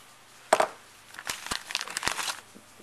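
Plastic packaging crinkling and tearing open around a Law Tactical Gen2 AR folding stock adapter, with a sharp rustle first and then a series of lighter crinkles and handling sounds up close.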